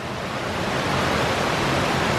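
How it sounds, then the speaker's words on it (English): A creek's flowing water rushes in a dense, steady, broadband roar as a hiker fords it on a woodland trail, loud and close and unbroken, with no voices. "And now we ford the creek again"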